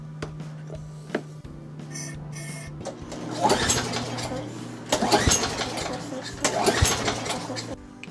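A small lawnmower engine with WD-40 sprayed into the intake is cranked over in several rough, sputtering bursts that fail to catch, with a mechanical hum beforehand.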